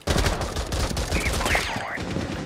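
Dense gunfire from Rainbow Six: Siege, rapid overlapping shots and reports filling the whole moment, loud and close with a busy, clattering texture.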